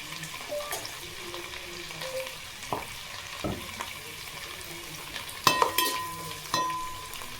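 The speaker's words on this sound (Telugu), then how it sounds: "వేగుతున్నాయి, బాగా ఫ్రై అవ్వాలి" Food fries in a pan with a soft, continuous sizzle, broken by a few sharp clinks and scrapes of stirring near the end.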